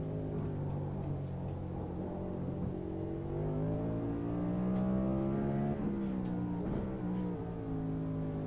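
A NASCAR race car engine drones loud and steady with shifting revving pitch, the roar sliding up and down as the car spins off the track, continuous for the full stretch.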